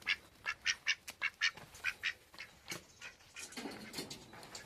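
Ducks quack in a quick series of loud calls, then softer, scattered quacks follow with some rustling and background chatter-like noise.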